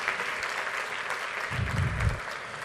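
Congregation claps together in a steady, moderately distant round of applause, with a low rumble of movement swelling near the end.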